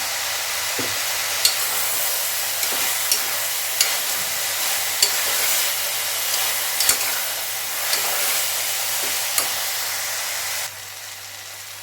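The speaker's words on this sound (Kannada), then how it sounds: "ಒಂದು ಎರಡು ನಿಮಿಷ ಚೆನ್ನಾಗಿ ಫ್ರೈ ಮಾಡ್ಕೊಂಡಿದ್ದೀನಿ" Bitter gourd pieces with turmeric fry in oil with a steady close sizzle and hiss, broken by light scraping stir knocks every second or so, without talk.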